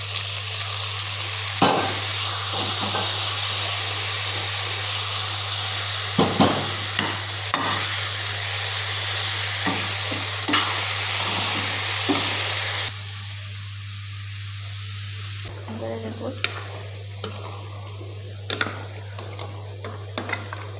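Radish greens stir-frying in a pan hiss with a loud, bright sizzle that drops to a quieter fry partway through, broken by scattered clicks and taps of stirring.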